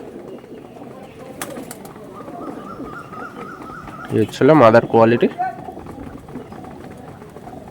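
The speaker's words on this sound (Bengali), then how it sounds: "ছোট্ট জোড়া একদম দুটোই ছোট্ট পায়রা" Small pigeons kept in a loft give a brief burst of cooing, loud and close, while someone talks nearby before and after.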